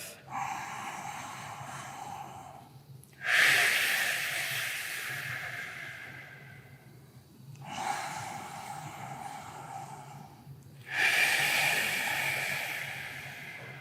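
Slow, deep breaths during a yoga hip-opening stretch: two long airy inhale-exhale cycles, each a strong rushing breath that fades gradually, close to the microphone with no talking.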